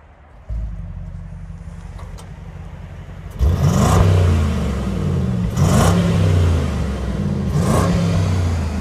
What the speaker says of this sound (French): Là on va démarrer la voiture, donc on sera en confort.